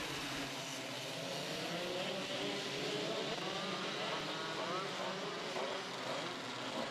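Dirt kart motors race at the 2022 South Australian Dirt Kart Titles, a steady high engine drone from several karts, distant and continuous, with faint voices underneath.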